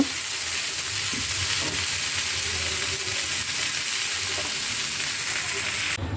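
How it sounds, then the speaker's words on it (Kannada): Sliced okra fries in a masala over a low flame for a palya, a steady close sizzle with occasional soft stirring scrapes throughout. "ಈ ಮಸಾಲೆಯಲ್ಲಿ ಬೆಂಡೆಕಾಯಿ ಫ್ರೈ ಆಗೋ ಥರ ಉರಿಬೇಕು ಸಣ್ಣ ಉರಿಲಿಟ್ಕೊಂಡು"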